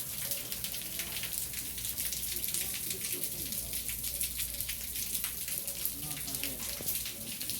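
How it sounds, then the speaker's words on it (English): Steady rain pours down on the Appalachian Trail near a mountain shelter and parking lot, a dense, continuous hiss of drops striking surfaces that stays even and fairly close throughout, with no talk over it. "it's raining,"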